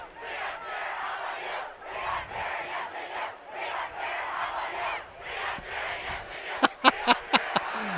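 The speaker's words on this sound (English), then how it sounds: "The juniors and seniors going back and forth right now with their spirit cheer." Juniors and seniors in the stands at a high school football game trade a rhythmic spirit cheer, the crowd chanting in loud pulsing waves, followed by a few sharp claps near the end.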